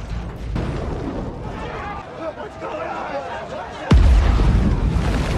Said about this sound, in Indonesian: Ia memanfaatkan beberapa tabung gas untuk membuat peledak, dan yang benar saja ledakan pun terjadi.